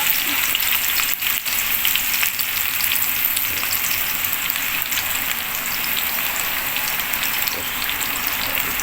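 Onion frying in a pan with squid gives a dense, steady sizzle and crackle that stays loud and close for the whole stretch, with no talking.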